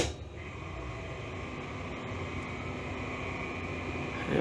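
A Generac/Carrier home standby generator runs steadily after starting, giving a continuous broadband engine and fan drone at constant level with a faint high whine, close by and with no talking.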